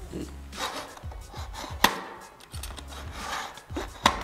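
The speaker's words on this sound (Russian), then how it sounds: "делаем надрез ножом" A utility knife scores a quartz vinyl floor plank being laid in a herringbone pattern, with repeated scraping strokes and a few sharp clicks and taps, close-up and moderately loud.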